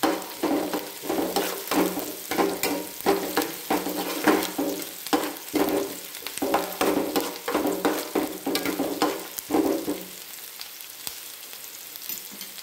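Chopped onion sizzling and frying in a pan for a Marathi wild-vegetable dish, with steady loud crackle and repeated stirring scrapes, the sizzle dropping away near the end.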